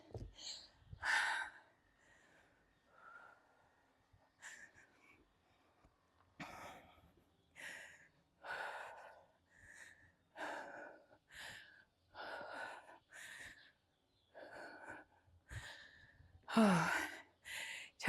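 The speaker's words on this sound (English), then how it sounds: "Trying to control my breathing. It's hard." Heavy, effortful breathing after a weighted full-body HIIT workout: a series of loud gasps, sighs and forceful exhales at irregular intervals, close to the listener with quiet gaps between breaths.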